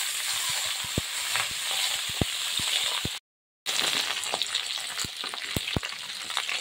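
Raw green pumpkin pieces hitting hot oil in a pan along with eggplant and stalks for a Bengali shukto, giving a steady close sizzle with scattered pops and stirring clicks and a brief break in the middle.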